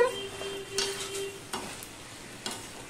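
Drumstick curry in a pan with a spoonful of turmeric stirred in, soft sizzling under a few brief spoon scrapes, quiet and close.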